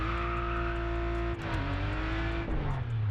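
Engine of the Polo IE car in the racing game Test Drive Unlimited Solar Crown, a steady loud drone with strong harmonics that shifts pitch as it changes gear partway through, heard alone without talk.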